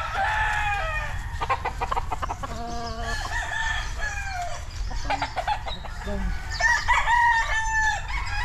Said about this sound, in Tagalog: dami rin mga manok na dito